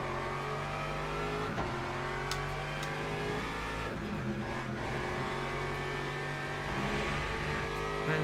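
Race car engines in the sim racing game Le Mans Ultimate during an endurance race at Spa, a dense, continuous drone of engines with shifting pitch as cars draft one another, steady and loud.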